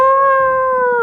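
A single sustained howl, smooth and steady with a slight falling pitch at the end, heard alone and fairly loud, fitting wolves howling.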